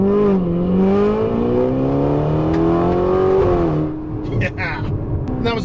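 An upgraded Ferrari Roma's exhaust pulls hard under acceleration, a loud, close, rising engine note that climbs steadily, then drops off before a quieter tail, with people talking over it.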